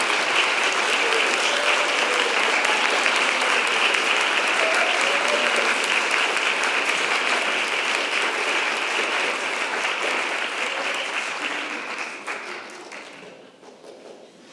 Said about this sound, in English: I invite you to join me in celebrating our coming of age youth with a round of